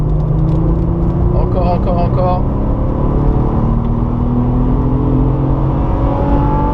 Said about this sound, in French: Et on accélère. Allez, gaz. Encore.